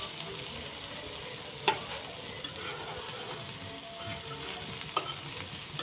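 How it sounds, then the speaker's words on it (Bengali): Okra being stirred in a frying pan with turmeric and salt, a steady close sizzle and scraping with a couple of sharp utensil knocks against the pan. "এখন নাড়া দিতেছে যাতে হলুদ লবণ ভালোভাবে মিশায়।"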